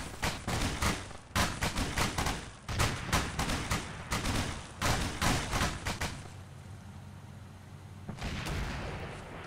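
Bursts of gunfire aimed at a tracked vehicle in a military video game, heavy repeated shots and thuds in rapid clusters for about six seconds before fading to a low rumble and a distant rattle.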